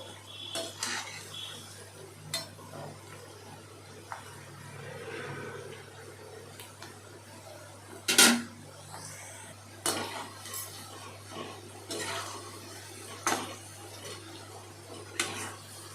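Cauliflower pakoda frying in oil in a pan, faint bubbling under intermittent metal clinks and scrapes as a utensil stirs and turns the pieces, close and quiet.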